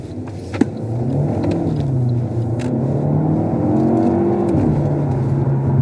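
A 300 bhp Alfa Romeo Giulietta Veloce set to dynamic mode, heard from inside as the engine note rises steadily and holds a loud, sustained accelerating drone, with a brief sharp click near the start.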